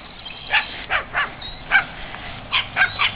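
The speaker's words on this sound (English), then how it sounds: "Dogs barking. Little yappy dogs." Small yappy dogs bark in short, sharp yips, about eight quick barks scattered in uneven bursts at moderate distance, with no talking.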